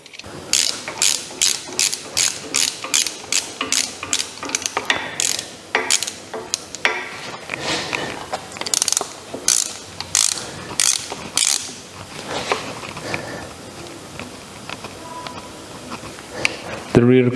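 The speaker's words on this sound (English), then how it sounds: "And now let's torque the bolts." A ratchet tightens bolts on a Mazda MX5 engine during assembly, clicking in quick repeated bursts with short pauses, close up, with a voice briefly heard at times.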